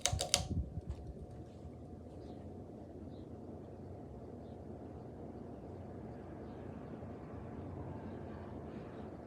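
A 52-inch Nutone Hacienda hugger ceiling fan running on high speed in a room: a few quick clicks at the start, then a steady, soft low whoosh of moving air that continues evenly.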